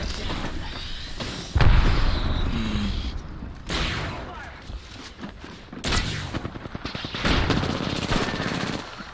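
Apex Legends gunfire crackles in repeated bursts, loud and close, with heavy impacts mixed in and faint game chatter underneath.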